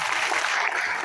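Audience at a business plan seminar in Kalyan clapping, a brief even patter of many hands at moderate distance with no voices over it.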